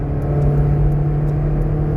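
A used car being test-driven, its engine a steady close droning hum with a low rumble, running evenly while it shifts through gears, no voices over it.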